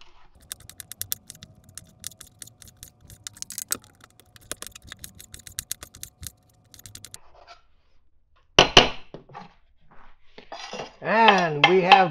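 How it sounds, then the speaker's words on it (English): A big knife cuts bacon into little strips for a slow-cooker soup, making quick, close, crisp ticking cuts for about seven seconds before a voice starts talking. "Come over here and cut this bacon up"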